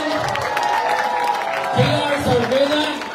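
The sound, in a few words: audience applause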